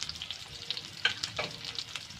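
Curry leaves fry in hot oil with onions and mustard seeds while cooking mint rice, crackling and popping in quick, close sizzling bursts over a couple of seconds.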